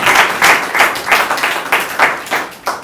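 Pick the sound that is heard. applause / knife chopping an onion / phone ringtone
applause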